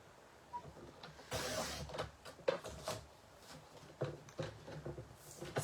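Scissors or a blade cutting a piece of white card for a handmade greeting card, heard as a series of close, crisp snipping and slicing strokes separated by short pauses.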